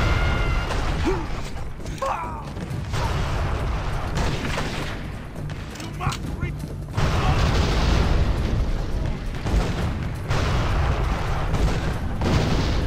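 Heavy booming cannon blasts and rumbling explosions roll through a dense, noisy video game battle scene at a fort, with mechanical clanks and bursts layered over continuous loud din.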